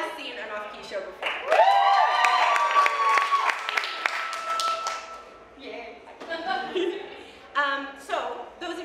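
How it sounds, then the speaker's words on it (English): Audience at an improv comedy show claps and cheers, with strong vocal whoops and sung or shouted tones rising over steady applause that fades and returns in bursts. "By another round of applause for whatever noise is comfortable for you"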